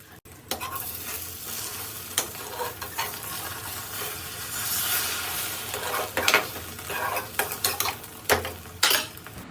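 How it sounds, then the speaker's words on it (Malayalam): A two-egg omelette fries in a pan, with a steady sizzle broken by clinks and scrapes of a utensil against the pan. No one speaks. "എനിക്കായിട്ട് ഒരു ഓംലേറ്റ് ഞാൻ തട്ടിക്കൂട്ടുവാണ്"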